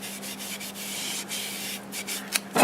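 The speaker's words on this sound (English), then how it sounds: "I'm going to go ahead and put some sanding sealer on it now." Sanding sealer rubbed by hand onto a piece of turned mimosa wood, a soft steady swishing scrub with brief pauses, then a louder burst of rubbing at the end.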